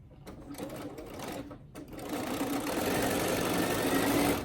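A sewing machine stitching the lining side of a fabric face mask, starting in short stuttering bursts, then settling into a steady close whirring hum as it runs continuously.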